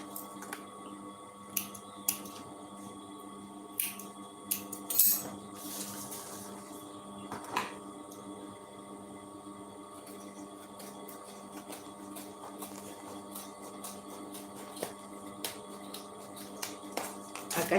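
Scissors trimming excess fabric lining from a sewn cosmetic bag, with repeated scattered snips over a steady low hum throughout.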